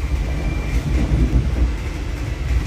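The Argo Bromo Anggrek executive express train running on rails just after departing Cirebon station, heard from inside the car as a steady low rumble and rolling clatter with a faint high squeal, without talk.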